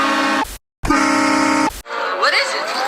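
A loud, blaring train horn played as a prank sounds in two long sustained blasts separated by a brief silence, followed by shrill voices and squealing noises.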